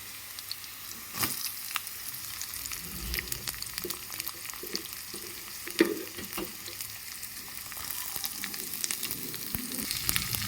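Chopped onion fries in a pan with crushed garlic for a parshe fish and brinjal dish, a continuous close sizzle with occasional stirring clatter and sharp pops throughout.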